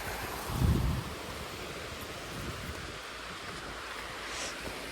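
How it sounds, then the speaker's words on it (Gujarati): Steady broadband rush of water pouring over the overflowing Bhakharvad Dam, continuous and loud, with a brief low rumble near the start and no voices. "ડેમ ઓવરફ્લો થઈ ગયો છે. તો ચાલો આપણે મુલાકાત કરીએ. અહીંથી પણ પાણી જાય છે."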